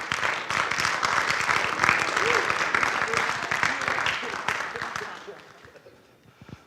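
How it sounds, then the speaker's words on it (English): A crowd at a 2020 football banquet breaks into sustained applause, a thick wash of clapping under some talk that fades away over the final seconds. "Give them a round of applause, gentlemen."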